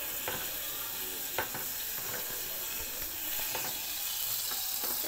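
Butter melts and sizzles in a pan while soup is started, a steady close frying hiss with a few light taps and stirs scattered throughout, no voices.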